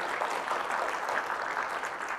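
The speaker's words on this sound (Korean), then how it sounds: "멋지게 발표해 주시는 모든 저희 선생님들께 큰 박수 한번 부탁드리겠습니다" An audience applauds presenters at a home-care medical center results-sharing event, a steady dense clapping from a crowd that holds at an even level throughout, heard from a moderate distance.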